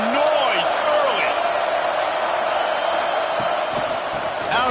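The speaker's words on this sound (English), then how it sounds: "This crowd bringing the energy and noise early." Stadium crowd roar from a football video game, a steady dense wash of noise with occasional whoops rising above it, loud and continuous throughout.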